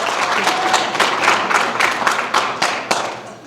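Audience applause at a high school pageant, loud and close, with distinct individual claps standing out from the crowd before the clapping tapers off at the end.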